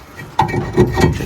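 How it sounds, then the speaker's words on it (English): A brake rotor is worked off a car's wheel hub with a few short, close scraping and rubbing knocks of metal over roughly a second. "I'm gonna pull this rotor off."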